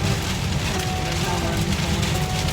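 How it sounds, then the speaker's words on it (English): Hail and heavy rain pound a car during a rainstorm, a dense, steady clatter and hiss with no break, heard from inside the vehicle. "Hail's coming down."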